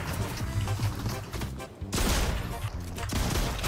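Rapid bursts of gunfire in the video game Fortnite, loud and dense with overlapping shots and a brief lull near the middle, mixed with game sound and some voice underneath.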